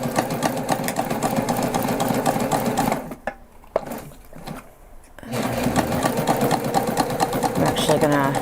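A sewing machine back stitching the grab handle of a fabric backpack, running in steady close bursts with a pause midway, while a person talks over the stitching.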